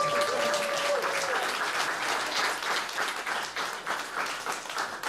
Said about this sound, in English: Ladies and gentlemen, let's have another round of applause for Mr.